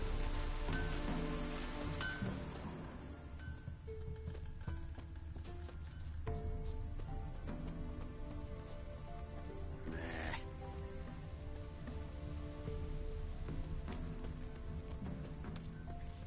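Steady rain in The Witcher 3: Wild Hunt, a continuous wash of falling water filling the scene throughout, with layered in-game ambience and music-like tones over it and no talk.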